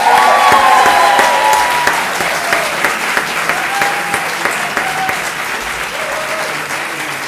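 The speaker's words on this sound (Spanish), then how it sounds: "Un aplauso especial para Adrià" An audience applauds at a university graduation ceremony for a philosophy, politics and economics degree, a full sustained round of clapping that starts loud and slowly thins, with faint cheers or whistles and crowd murmur underneath.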